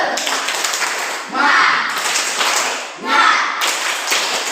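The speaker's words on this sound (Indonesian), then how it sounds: "kita beri tepuk semangat untuk kita semua" A classroom group of teachers or students does a rhythmic spirit clap, tepuk semangat, in unison bursts of clapping and tapping with a shouted cheer, close and fairly loud, with voices mixed in.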